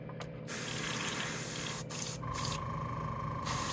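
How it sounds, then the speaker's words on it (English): Several short hissing bursts of a small spray bottle of alcohol, close by, with a steady faint tone and background noise in between. "This is just a little spray bottle of alcohol."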